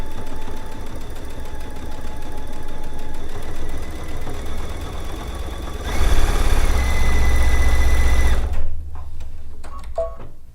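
A sewing machine stitching down a quilt sleeve runs with a steady mechanical whir, growing louder and rougher for a few seconds before stopping abruptly, followed by a few faint clicks.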